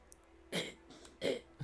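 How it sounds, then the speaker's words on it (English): Two short, harsh coughing bursts from a cat coughing up a furball, about half a second apart, fairly close and otherwise quiet, with a faint hum underneath. "If you're hearing coughing, it's the cat."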